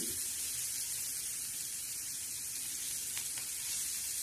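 Red chili powder and turmeric sauté in a hot pan for a potato and prawn tawa dish, giving a steady, soft broadband sizzle throughout with a couple of faint clicks near the end.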